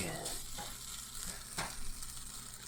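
Carrots being stir-fried over medium heat in a pan, a steady close sizzle with occasional scraping, stirring strokes, no talking.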